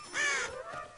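A single loud, close caw from a big cartoon bird sounds in the Caillou scarecrow scene, one harsh cry followed by a fainter trailing call.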